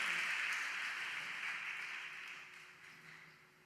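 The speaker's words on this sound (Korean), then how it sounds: "우리 격려의 박수 하겠습니다." A church college-ministry congregation claps in encouragement for the subtitle team; the soft, even applause sounds somewhat distant and gradually fades out over a few seconds.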